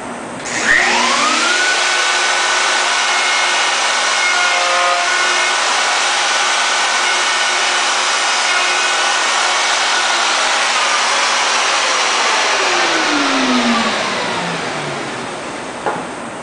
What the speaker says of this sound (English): I'm milling this to where I'm always routing or shaping downhill.